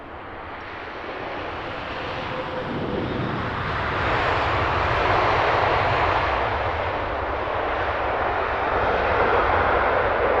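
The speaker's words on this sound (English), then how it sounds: "Nice noisy American Airlines touchdown." An American Airlines jet touches down at Heathrow Airport with a loud, continuous engine roar and rushing noise that swells and holds close by for several seconds. No voices are heard over it.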